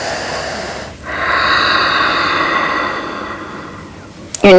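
Close, loud breathing during an abdominal exercise: a long, steady exhale after a brief pause, then a sharp intake at the end.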